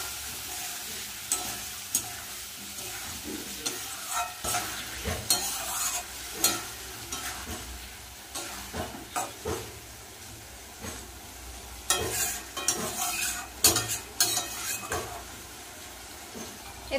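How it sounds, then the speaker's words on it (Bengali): Tomato and potato frying in a pan with cumin, ginger, salt and turmeric, a soft steady sizzle broken by scraping stirs and clinks, fairly quiet and with no talking. "জিরে, আদা আর হচ্ছে নুন আর হলুদ। মশলাটা দিয়ে ভালো করে টমেটো আর আলুটা কষিয়ে নেব।"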